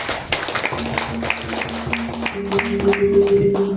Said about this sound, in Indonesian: mari kita tepuk tangan untuk ini